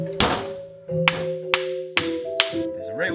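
Sharp metallic blows ring out as an old pulley is forced off a Mazda RX-7 alternator: five distinct hits at uneven intervals over a steady mechanical hum, close and loud.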